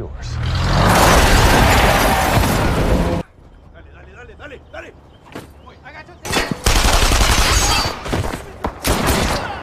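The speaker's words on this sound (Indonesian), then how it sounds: "baku tembak tidak bisa dihindari" Heavy gunfire from a film shootout: dense bursts of automatic shots and blasts, loud and sustained, dropping briefly to scattered single shots before another roaring volley.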